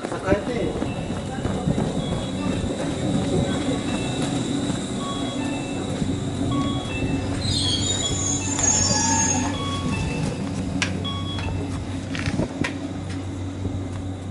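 Tobu train running through track 4 at Shimo-Imaichi station, a steady loud rolling rumble with sharp high wheel squeal rising midway, under continuous station background noise.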